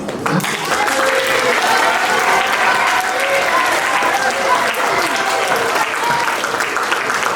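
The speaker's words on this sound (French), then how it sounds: "On peut les applaudir à nouveau." An audience at a school ceremony in the Caucasus marking a day against school bullying applauds, dense sustained clapping that fills the room at full volume for several seconds.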